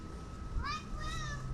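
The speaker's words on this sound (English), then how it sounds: "Big cat." A big domestic cat gives two short, rising meows in quick succession, close by and fairly soft, over a low background hum.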